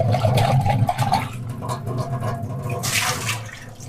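Running water rinsing a spun polypropylene pre-filter from an RO water purifier, a loud, close, continuous splashing stream.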